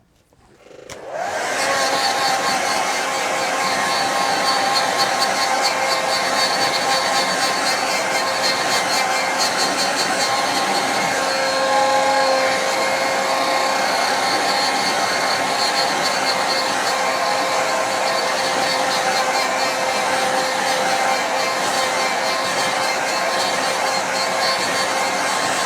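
A hair dryer blows steadily on a wet watercolour winter snow scene, a loud continuous whooshing hum that starts abruptly and runs unbroken for the whole stretch, with no voices over it.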